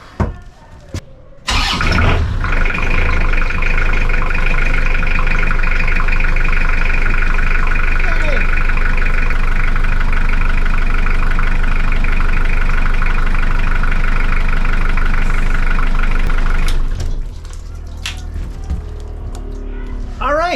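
A boat engine aboard a wooden boat starts up and runs at a steady idle, loud and close with a constant rumbling hum and faint whine, then drops abruptly near the end.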